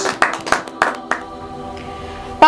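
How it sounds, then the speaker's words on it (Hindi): Congregation clapping their hands at a Christmas church service, a run of sharp, evenly spaced claps over sustained music, fading after a few beats before a louder burst of clapping at the end. "हम ताली बजा सकते हैं"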